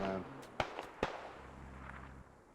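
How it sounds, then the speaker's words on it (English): Gunfire in the Squad video game, a few sharp distant pops scattered over about two seconds against a low ambient rumble, with a voice briefly heard at the start. "Who was that shooting?"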